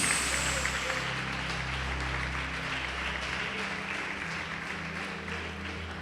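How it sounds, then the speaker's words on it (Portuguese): A church congregation applauds during a sermon, a dense, sustained wash of clapping that starts loudest and slowly fades, with a low hum underneath. "Você pode aplaudir o Senhor Jesus por isso?"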